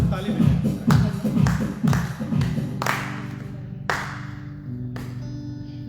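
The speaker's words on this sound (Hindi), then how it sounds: "सब ताली बजाएं।" A church congregation in Houston stands and claps together during Sunday worship, sharp rhythmic claps close by in a steady beat, gradually thinning out toward the end.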